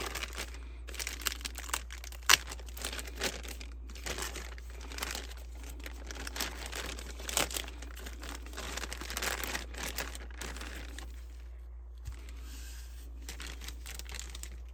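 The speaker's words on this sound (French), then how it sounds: "On va déballer le petit motherboard ITX." An ITX motherboard being unwrapped from its packaging, with steady crinkling and rustling of plastic and wrapping, close and fairly quiet, with small bursts of crackle and brief pauses.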